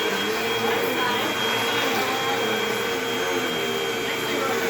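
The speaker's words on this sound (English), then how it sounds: "Next, I'm going to push the vacuum to get all of the paper." Upright vacuum cleaner running on carpet, a loud, steady whining motor drone held close for the entire stretch with only slight fluctuations as it is pushed, and a voice faintly underneath.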